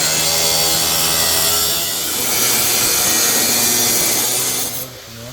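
A Bad Dog Tools saw blade rips through wood with a steady, loud grinding roar that holds for the whole stretch and tapers off at the very end, with no one speaking.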